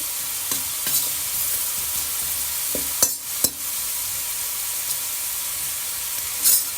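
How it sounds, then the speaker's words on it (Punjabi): Turmeric and spices roasting in hot oil in a pan for aloo capsicum sabji give a continuous soft sizzle, broken by a few sharp stirring clinks against the pan. "ਤੁਸੀਂ ਦੇਖ ਸਕਦੇ ਹੋ ਆਪਣੀ ਜਿਹੜੀ ਹਲਦੀ ਉਹ ਵੀ ਭੁੱਜ ਰਹੀ ਹੈ ਵਿੱਚ"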